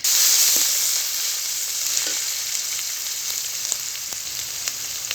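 A ground paste of onion, garlic and cumin sizzles loudly in a hot frying pan, a dense steady hiss that fades slightly, with faint stirring clicks scattered through it.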